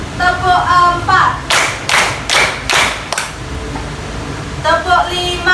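Pupils in a primary school class clap in unison four times, evenly spaced crisp claps, with a teacher's voice heard before and after the claps.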